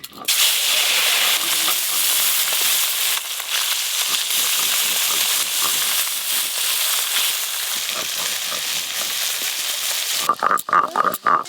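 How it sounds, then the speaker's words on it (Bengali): Small puti fish fry together in a pan with loud, steady hissing and crackling oil, close up, before the sizzle breaks into a few clattering stirs at the end. "এবার এই যে মাছগুলো আছে এইগুলো সব একসঙ্গে ভেজে নেব"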